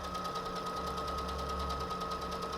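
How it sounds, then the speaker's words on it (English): A sewing machine steadily stitches right-side-together layers of a three-layer cloth face mask, a loud continuous motor whir with a fast, even needle rhythm running alone throughout. "stitching with the right sides together"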